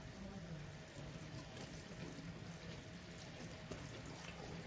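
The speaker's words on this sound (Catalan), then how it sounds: "Hi posarem una mica d'aigua." Water poured into a cooking pot while making rum bananas with cream ice cream; a steady, faint pouring rush that runs through the whole stretch.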